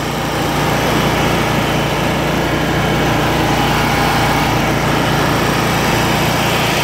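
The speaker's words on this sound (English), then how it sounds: "Just gonna let it idle for a few seconds." A Kubota lawn mower engine idles steadily and loudly at close range, a constant unbroken drone with no talking.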